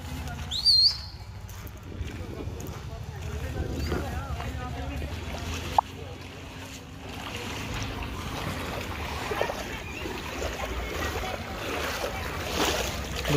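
Floodwater from an overflowing drain rushes through a street in Old Bishan Nagar, Patiala, a steady broadband wash of flowing water that runs throughout, close and continuous, with someone talking over it.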